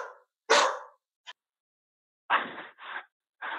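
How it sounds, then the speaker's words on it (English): A dog barks several times in short, loud bursts with gaps between them, nearby and with no talking. "The dog either agreed with you or disagreed with you."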